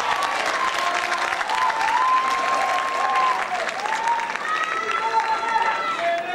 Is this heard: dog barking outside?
no